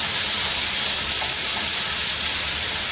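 Food sizzles and fries steadily in a preheated frying pan, a loud, dense, continuous hiss with no pauses.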